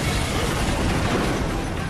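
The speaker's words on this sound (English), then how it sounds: "Plane crash." A plane crash explosion in a comedy film erupts as a loud, sustained, rumbling roar of deep booming noise that stays dense and unbroken throughout, with no voices.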